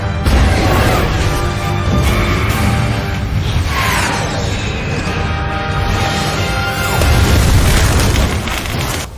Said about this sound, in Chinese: 船只在菲娜面前爆炸